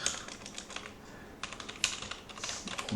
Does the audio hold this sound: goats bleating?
no